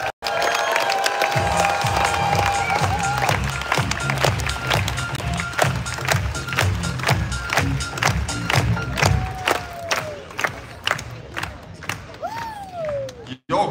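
An outdoor crowd in Tampere city center claps and cheers for the Finnish national basketball team, Susijengi, with steady rhythmic clapping and sharp beats driving through a dense, loud mass of applause, with a voice on a PA at moments.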